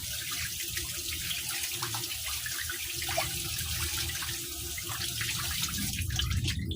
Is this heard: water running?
yes